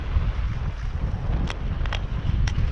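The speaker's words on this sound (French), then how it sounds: "le petit vent est monté là" Steady wind noise buffets the microphone aboard a small sailboat cruising at about four and a half knots, a continuous low rumble with a few brief higher hisses of water or gusts.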